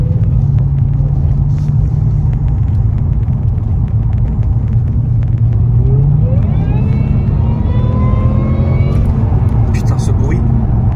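A Jaguar car engine rumbles steadily while driving, its pitch climbing as it revs and accelerates partway through, with a few sharp clicks over the constant drone.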